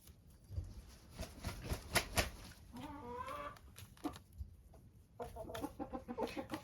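Backyard chickens, including silkie hens and a rooster, clucking and chattering nearby in irregular bursts with soft scratching patter in between.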